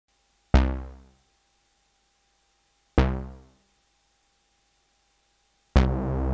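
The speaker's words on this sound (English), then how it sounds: "I'll play 2 long notes and then 1 short note" Three synthesizer notes with sharp attacks: two long notes fading slowly, then a final note that sustains to the end, each separated by silence.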